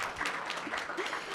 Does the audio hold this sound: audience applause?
yes